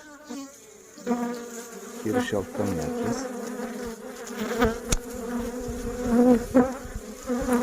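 Dense buzzing of many honeybees at a hive entrance fills the scene, rising and falling in pitch, close up, while someone speaks briefly in Turkish over it.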